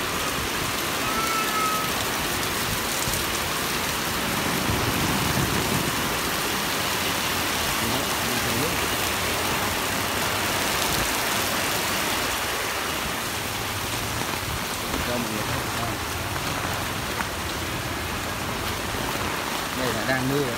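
Rain falls outdoors near Gate 11 roundabout in a steady, dense hiss with splashing on surfaces, continuous and fairly loud throughout, with faint traffic sounds mixed in.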